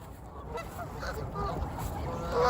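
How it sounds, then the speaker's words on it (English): Several geese or ducks honk at an outdoor event, their calls overlapping in a busy, moderately close chorus over steady background noise. "Those are some weird looking ducks."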